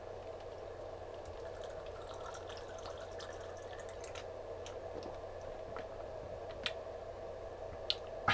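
Spring water trickles slowly from a small-mouthed bottle with internal ridges into an open mouth, heard as faint, sparse drips and soft splashes over a quiet hiss, with a few louder clicks near the end.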